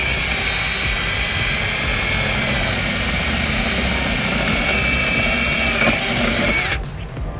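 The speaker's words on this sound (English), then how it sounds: "I'll go ahead and just drill out the other side here." Power drill boring through the body of a 2009 Kia Sorento for trailer wiring: a loud, close, steady high-pitched whine running several seconds before stopping abruptly, with no talk.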